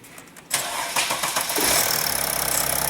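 Mercedes CDI diesel engine cranks and catches, then settles into a steady, rhythmic idle clatter, loud and close with no talk.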